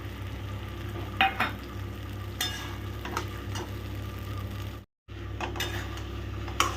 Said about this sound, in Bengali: জাস্ট অল্প একটু নাড়া দিয়েই আমি এই পোস্ত বাটার, বাদাম বাটাটা দিয়ে দিচ্ছি